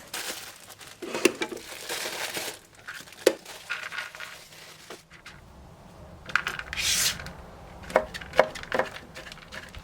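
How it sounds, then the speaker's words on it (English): Dates or currants for a Jamaican Christmas fruit cake are chopped fine with a knife on a board, giving irregular close taps and crinkly rubbing sounds spread across the stretch. "Chop the dates or the currants fine."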